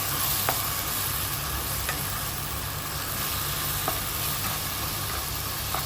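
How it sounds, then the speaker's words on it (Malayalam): Pineapple being stirred into a sizzling beef curry pan with onion, green chilli and ginger, a steady frying hiss under scattered spoon scrapes and clicks, close and fairly loud with no talking. "എന്നിട്ട് നമുക്ക് നന്നായിട്ട് ഇതിനെ കൂട്ടി യോജിപ്പിക്കാം."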